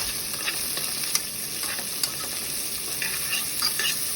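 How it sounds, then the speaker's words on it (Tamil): Onion, green chilli and dried red chillies sauté in a pan, giving a steady hiss of frying with a few small scraping stirs, close and unbroken by speech. "2 காஞ்ச மிளகா, நீளமாக வெட்டி வச்சுருக்க ஒரு மீடியம் சைஸ் வெங்காயம், இதெல்லாத்தையும் நல்லா வதக்கிக்கோங்க."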